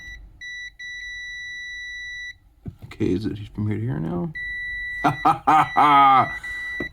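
A steady electronic beep from a multimeter continuity test on a soldered Game Boy Color game cartridge sounds for about two seconds, clean and close, with a short break, then returns while people talk over it.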